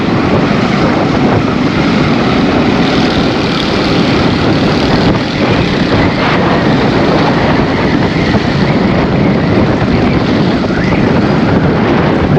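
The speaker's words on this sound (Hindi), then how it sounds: "बहुत ही यख किस्म की हवा चल रही है" Cold wind blows hard on a rainy day in Karachi, making a loud, continuous, rushing roar that buffets the microphone throughout without letting up.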